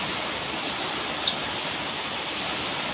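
Heavy rain lashes down during Typhoon Kristine in Tanauan City, a loud, steady broadband roar with no break, one faint brief knock standing out midway.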